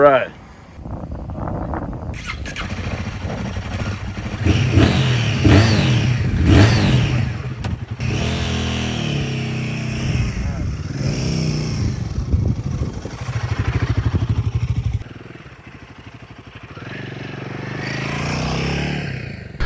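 A Royal Enfield Himalayan 450 motorcycle's engine revs and accelerates hard in bursts, rising and dropping in pitch, with the rider talking over the bike throughout.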